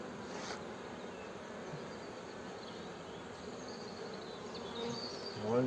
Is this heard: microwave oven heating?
no